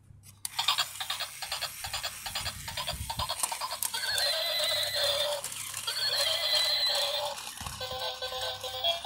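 An orange toy horse plays a recorded horse whinny: a loud, bright neigh that starts abruptly and carries on for several seconds, with buzzy, electronic-sounding tones and no talking.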